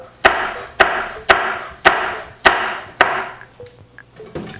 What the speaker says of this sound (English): The skin is quite a lot harder to cut through, and that's that loud sound you're hearing.